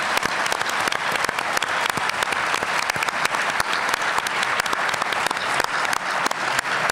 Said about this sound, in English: let's give a round of applause to our candidates after the first round of questions